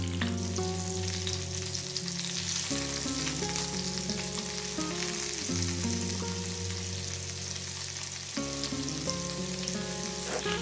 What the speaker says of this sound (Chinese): 用油先把大虾给煎一下